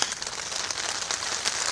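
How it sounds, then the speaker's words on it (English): Heavy rain patters steadily on the outside of a makeshift fort, a dense, even hiss of close drops with no talking. "It is raining"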